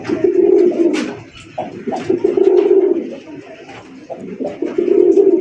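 Red king pigeons coo repeatedly in close, loud, rhythmic bursts, several birds overlapping with short pauses between phrases, with a voice faintly present in the background.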